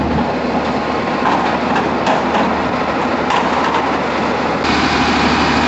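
Tractors lifting stockpiled stone for a crusher machine, a steady loud engine rumble with clanking and rattling, no voices.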